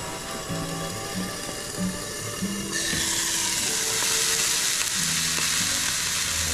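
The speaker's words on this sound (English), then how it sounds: "they're helping me cook a hamburger" A hamburger frying in a pan gives a steady hiss and sizzle that grows louder and brighter partway through, with a whirring hum beneath.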